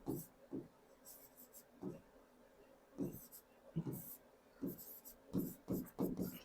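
Chalk or marker strokes scratch across a classroom board in quiet, irregular bursts of short scrapes, faint and close, with soft breathy sounds between them.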